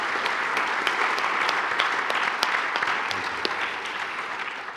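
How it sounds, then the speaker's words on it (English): A crowd applauds a panel at a morning business forum on AI, a sustained even wash of clapping with a few crisp individual claps, gradually tapering slightly toward the end. "Can we do another round of applause for this panel?"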